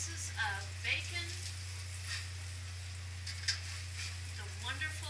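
Bacon fries in a pan on a Coleman camp stove, giving a soft, steady sizzle beneath a constant low hum while a person talks intermittently.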